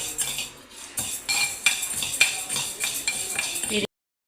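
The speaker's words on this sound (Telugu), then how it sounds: "నేనైతే కందిపప్పు వేయించుకుంటున్నాను" Toor dal roasting in a pan while a spoon stirs it, giving sharp metallic scrapes and clinks against the pan in an uneven rhythm, close and fairly loud, ending abruptly in silence.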